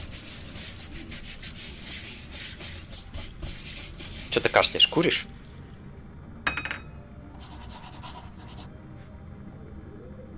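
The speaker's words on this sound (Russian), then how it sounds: "Я без рук мою посуду по-джедайски." Dishes being washed in the horror video game September 7th, heard as a brief clattering, rubbing burst in the middle, with a shorter clink later, under a voice speaking over steady game ambience.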